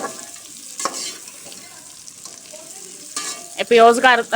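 Onions fry in hot ghee for aloo gobi gosht, a soft continuous sizzle with occasional stirring scrapes, louder bursts near the end.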